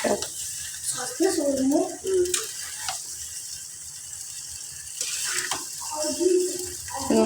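Chicken pasta is mixed in a pan, with wet squelching, sloshing and stirring scrapes alongside a low hiss, while a voice speaks intermittently.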